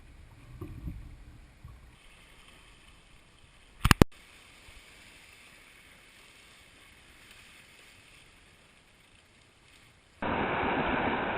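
Waves wash against the hull of the Walkabout out on Sarasota Bay, a soft rushing swell with a sharp knock midway, then a sudden loud burst of wind and water noise near the end.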